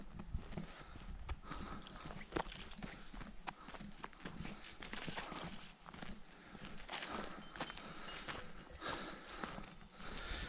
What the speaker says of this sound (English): there's two people and a huge herd of cows